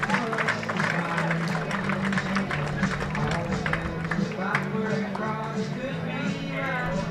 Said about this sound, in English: And the fans will give him a nice round of applause.